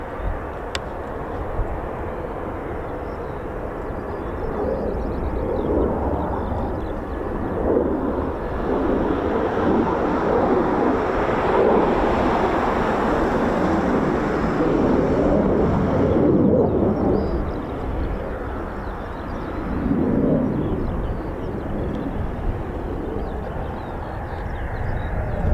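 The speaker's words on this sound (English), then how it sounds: "We've got another KC-135." A Boeing KC-135 military tanker flies past at an air force base, its jet engines making a loud, sustained roar that builds, holds for a long stretch and then slowly fades, heard from the ground with some wind buffeting.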